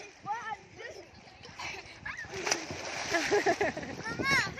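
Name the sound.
people flipping and splashing in pool water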